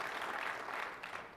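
Applause from a conference audience at a Microsoft Build 2014 session fills the room as a steady wash of clapping that slowly fades; no distinct whistle stands out.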